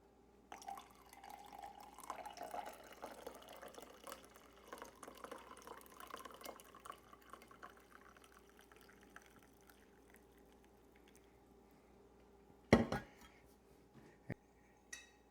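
French press coffee is poured in a faint, steady trickle of liquid, followed by a couple of sharp clinks near the end.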